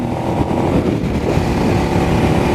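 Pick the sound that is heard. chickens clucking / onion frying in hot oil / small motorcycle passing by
small motorcycle passing by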